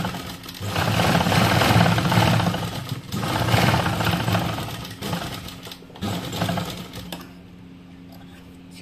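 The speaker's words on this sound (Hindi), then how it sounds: "एक सिलाई और चला लेंगे" A sewing machine stitches the sleeve of a kurti, running in a steady close whirring burst with small dips in speed, then slowing and stopping near the end, with no talk.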